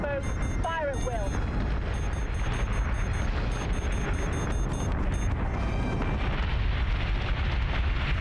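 Ship batteries blaze away in Battlestar Galactica: Deadlock, a dense, continuous roar of rumbling explosions and rapid repeated gunfire bursts with sweeping tones, loud and unbroken throughout.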